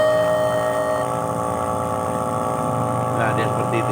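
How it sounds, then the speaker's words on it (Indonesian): A steady mechanical water pump motor hum from an automatic disinfectant sprayer runs throughout with a constant drone, close and fairly loud, and a few faint clicks near the end. "Ini suara motor"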